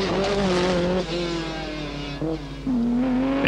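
Lancia rally cars race on tarmac at the 1983 Tour de Corse, engines screaming loudly and close as they rev high, dip at gear changes and rise again in quick bursts.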